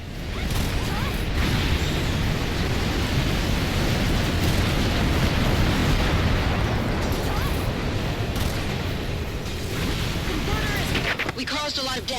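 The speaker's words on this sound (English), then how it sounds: "We caused a lot of damage to the enemy with the air raid." Air raid explosions in a video game form a dense, continuous roar of booming blasts and rumble that stays loud throughout with no break.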